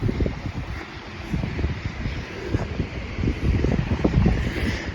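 Wind blows outdoors across sand, a steady low buffeting rumble of gusts hitting the microphone, fluctuating in strength throughout with no talk.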